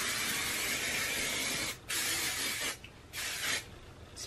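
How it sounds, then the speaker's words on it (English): Flexible hold hairspray is sprayed onto hair in several close, steady bursts of aerosol hiss with short pauses between them. "Spray a little bit further away from the hair"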